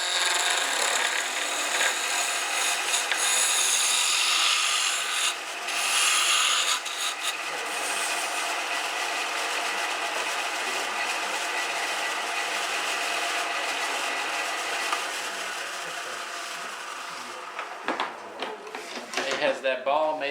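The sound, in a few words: wood turning tool cutting a Christmas ornament on a lathe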